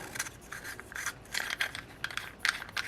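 Threaded lamp socket part being twisted off its shaft during a lamp switch repair, giving soft intermittent rubbing and scraping grinds in short bursts, close and fairly quiet, with no talk.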